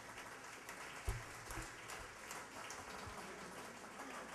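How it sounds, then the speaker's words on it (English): An audience applauds a band after a performance, faint scattered clapping heard from a distance at low volume throughout. "Give him a round of applause, y'all."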